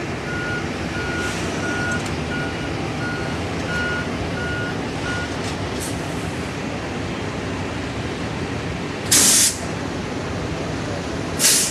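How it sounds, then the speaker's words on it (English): A Con Edison utility truck reverses at a fire scene, sounding a faint, evenly spaced run of beeps under a steady wash of street and engine noise, with two louder bursts of hiss near the end. "Con Edison truck."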